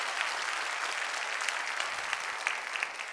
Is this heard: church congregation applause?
yes